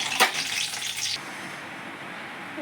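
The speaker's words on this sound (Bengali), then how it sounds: "কড়াই সর্ষের তেল দিলাম, ছোট এলাচ, দালচিনি আর তেজপাতা চিনি দিয়ে আমি ফোড়নটা করি।" Whole cardamom, cinnamon and bay leaf crackle in hot mustard oil in a wok, a bright sizzle with a sharp spattering burst early on that drops to a softer, steady fry.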